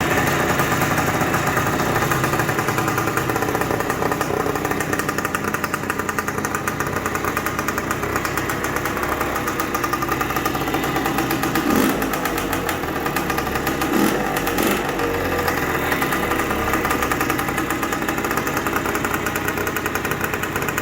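A 1974 Bultaco Alpina motorcycle engine runs steadily at idle, close and loud, with a continuous rough rattling drone and a few slight changes in pitch, heard alone without voices.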